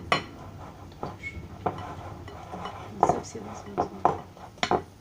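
A spoon scrapes and clinks against a bowl as oat flakes and chocolate chips are stirred into a dough, with uneven soft taps and knocks close by.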